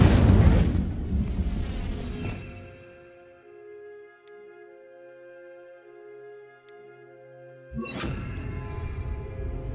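A fire spell cast in the video game Hogwarts Legacy erupts as a loud burst of crackling roar, fades into a sustained ringing magical hum with faint chimes, then a second forceful burst closes it; no talk.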